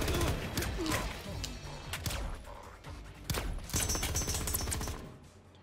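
Soldiers opening fire in Marvel Ultimate Alliance 3 on Nintendo Switch: a dense, loud burst of overlapping game gunshots and impacts runs the whole stretch with no talk, easing off slightly midway before a fresh volley.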